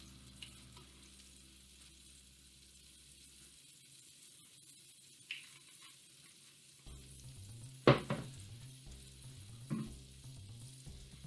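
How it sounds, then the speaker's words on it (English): Olive oil and butter sizzle softly in a hot pan as risotto is started, a low steady fry with a few clinks and scrapes of a utensil against the pan. "We're gonna add some olive oil."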